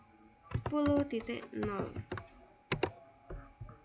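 Computer keyboard typing while entering network settings for EIGRP dynamic routing: short bursts of quiet key clicks mixed in with a voice talking.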